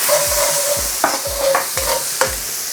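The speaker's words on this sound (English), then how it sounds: "put a couple of tablespoons of oil into the wok, get that hot, and I'm going to start by putting my aromatics" Chili and garlic hitting hot oil in a wok, a loud close sizzle with rhythmic scraping stirs and a steady low hum beneath, no talk.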